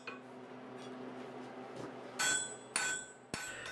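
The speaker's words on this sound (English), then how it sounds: "tip your hammer over slightly until it starts forging with the rounded corners of the hammer face" A rounded-corner forging hammer strikes a metal bar on an anvil three times in sharp, ringing blows, with low background noise between them.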